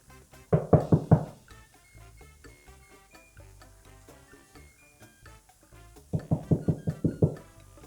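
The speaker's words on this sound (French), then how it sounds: "cette fois-ci, je vais toquer, mais Luna dans mes bras en faisant en sorte" A hand knocking on a door, a quick burst of about six sharp raps, then a quiet pause, then another similar series of knocks, close and clear.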